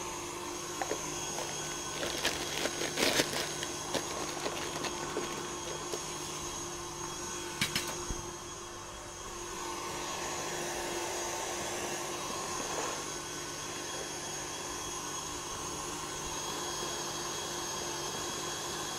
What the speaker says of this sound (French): je peux arrêter mon batteur